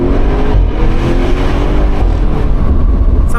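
The exhaust of a 2017 Audi RS6 C7 roars close and loud as the engine is revved, with a dense, continuous rumble throughout and no talking.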